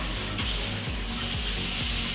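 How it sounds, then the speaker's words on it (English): Water streams steadily from a mixer shower head fitted with a hard water filtration kit, a close, continuous hiss and splash with a low repeating hum beneath it. "so we can turn on the power and the water directly from the shower head"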